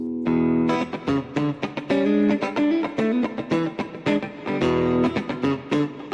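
Heavy distorted riff on a Schecter Hellraiser C-1 FR S electric guitar with EMG pickups and Sustainiac, loud and chugging with sharp stops and restarts, played alone in a choppy rhythm.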